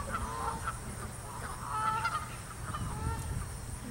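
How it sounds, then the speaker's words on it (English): Geese honk repeatedly outdoors during a morning worship gathering, scattered nasal calls rising and falling at moderate distance over a low background rumble. "And the geese will sing along with us."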